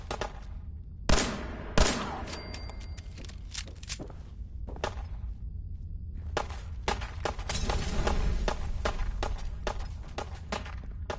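Gunfire in a gunfight in the video game Fallout 4: sharp, loud shots, two standing out early, then a rapid clattering run of bursts over a low rumble.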